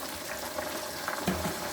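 Onions frying in a pan until light brown, a steady close sizzle and crackle with soft stirring bumps and no voices.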